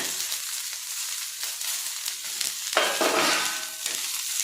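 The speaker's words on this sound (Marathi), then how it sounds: "कांदा हा छान असा भाजायला लागला यातच आपण हा लसण अद्रक कोथिंबीर आणि टोमॅटो पण टाकून घ्यायचं" Chopped onion frying in a pan for a spicy alu leaf curry as garlic, ginger, coriander and tomato go in, giving a steady close sizzle that surges louder midway as the ingredients drop in, with stirring scrapes and no talk.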